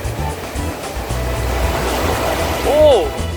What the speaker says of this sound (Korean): 근데 파도가 세가지고 파도 때문에 저거 진짜 세다